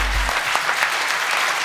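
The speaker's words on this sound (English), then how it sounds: "please give them a big applause" Audience applause at a press conference for the Expendables cast in Cologne, a brief low thump at the start and then dense, steady clapping from a crowd.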